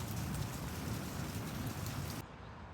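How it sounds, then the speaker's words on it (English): Steady heavy rain pours down during a thunderstorm, a dense close hiss of drops striking surfaces that continues unbroken, then drops abruptly to a softer, duller patter near the end. "That was a good hour worth of rain anyway."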